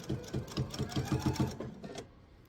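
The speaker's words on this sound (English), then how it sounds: "And then I'll continue to sew." A sewing machine stitches a laptop sleeve in a quick, steady mechanical chatter of evenly spaced needle strokes. It runs close and clear, then stops abruptly near the end.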